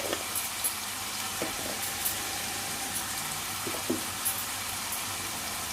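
Onion sizzles steadily in a hot pan with salt and turmeric for a capsicum curry, a close, even frying hiss broken by a few faint clicks and pops.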